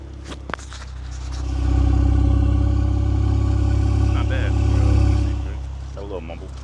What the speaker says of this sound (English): you can get a little exhaust note for the